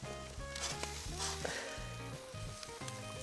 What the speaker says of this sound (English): It is like bubbling and cooking in a way I've never seen a burger cook before.